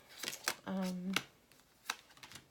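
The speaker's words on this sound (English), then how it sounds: "I usually pay attention to the feel of the shuffling" Tarot cards riffled and shuffled by hand in short crisp bursts of flutter and snapping, some close and fairly loud, interrupted by a sustained hum in the middle.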